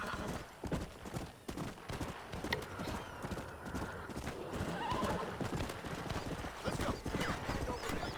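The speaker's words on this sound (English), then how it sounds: "There's a horse just wandering about." Horse hooves clip-clop and a loud whinny in the western video game Red Dead Redemption, close and prominent, with rhythmic hoofbeats running through the whole stretch.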